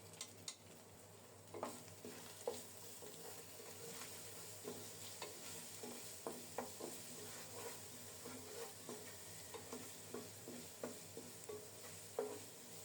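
Spices with ground coriander, cumin and salt frying in a pan: soft continuous sizzle with light irregular scrapes and taps of a spatula stirring, quiet and close, no voices.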